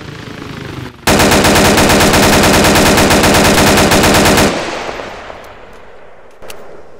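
Sustained automatic rifle fire in the Arma 3 battle royale game, a dense rapid burst lasting several seconds, loud and close, then a fading echo and a single later shot.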